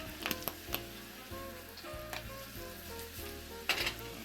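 Julienned yellow pepper sizzles steadily in hot olive oil, a continuous crackling fry with a few sharper spits and pops breaking through near the start and end.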